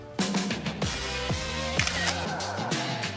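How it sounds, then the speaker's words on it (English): A camera shutter clicks several times in quick succession, crisp and close, as photos are snapped in front of a DIY poppet selfie wall in a bedroom makeover. No one speaks. "Here, let me take a photo of you."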